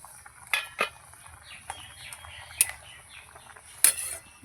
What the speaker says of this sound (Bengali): ঢাকাটা একবার তুলে দেখব।